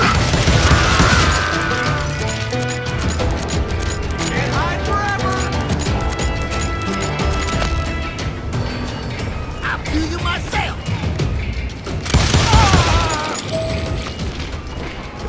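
Gunfire in the Western shooter Call of Juarez Gunslinger: repeated sharp booms and crashing impacts with clanking mechanical noises, dense and loud throughout, with a heavier burst near the end.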